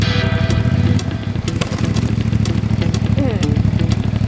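Motorcycle engine revving hard up close, a fast rapid-firing putter with repeated throttle blips, loud and continuous while people talk over it.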